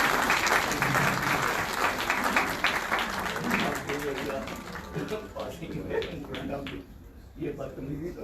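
Continuous audience clapping at a conference inauguration, loud and dense at first then gradually thinning and fading, with a voice speaking over the tail end of the applause.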